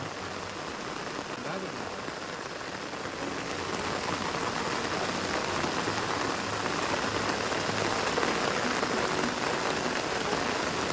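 Heavy monsoon rain pours down steadily over rice paddy fields during transplanting in Konkan, dense hissing noise that swells slightly louder partway through, with faint voices underneath.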